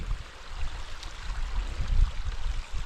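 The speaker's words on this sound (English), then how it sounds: "That over there is the creek from the mountains that feed them." Mountain creek feeding the Colorado River near its beginnings, a steady low rushing and gurgling of flowing water with some wind-like rumble, continuous and moderately near.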